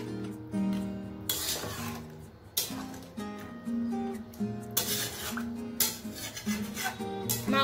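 A utensil stirs chicken curry in a kadai after hot water goes in, giving repeated scraping and rasping strokes at a steady pace over a continuous background hum, with no voices.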